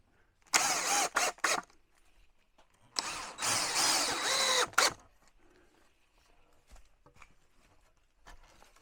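A cordless drill drives screws through cleats into shelves made of home-sawn lumber, with two short whirring bursts, the second longer and loud, followed by quiet bumps and handling.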